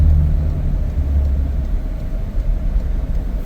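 A twin-turbo AWD Ford Police Interceptor Utility cruising on a highway, its steady low engine and road rumble droning continuously from inside the cabin without pause.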